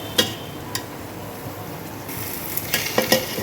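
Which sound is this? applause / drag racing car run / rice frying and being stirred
rice frying and being stirred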